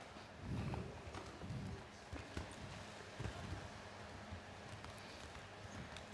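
A horse's hooves thud on the arena footing at a five-star show jumping competition, several heavy strides early on, then lighter scattered footfalls under a broad background hush.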